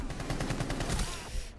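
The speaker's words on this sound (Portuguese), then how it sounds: "tá dando tiro aqui do lado" Gunfire in the tactical shooter Rainbow Six: a rapid automatic burst rattles steadily for over a second, loud and dense, then cuts off.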